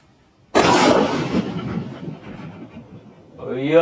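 A country firecracker bursts inside a pressure cooker and blows the lid away: one loud, sudden outdoor bang with a long rumbling decay, then a voice begins near the end.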